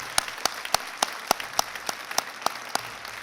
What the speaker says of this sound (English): If we could get a round of applause for the pipe and drums and honor guard.